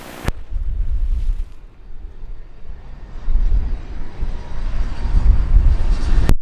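A fixed-wing airliner taking off from runway 28 in Jamaica, its engines producing a loud, broad jet roar that holds strong throughout and swells toward the end, with wind buffeting the microphone and no talk.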